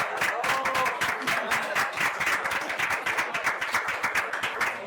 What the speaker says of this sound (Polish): naprawdę powinny dostać brawo